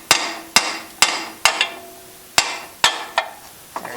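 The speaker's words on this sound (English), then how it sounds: "Just give it a few bangs." A hammer bangs on a 2011 Mitsubishi Outlander control arm eight times at a fairly even pace, each strike sharp and ringing, close by, with no talking.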